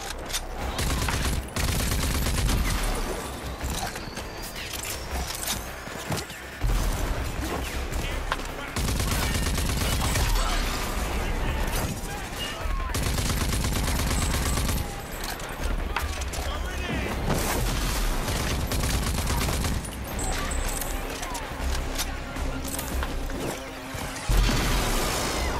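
Dense gunfire from enemies in the video game Rage 2, with rapid volleys and heavy bursts almost constant across the clip, loud and cluttered, while a player talks over the shooting.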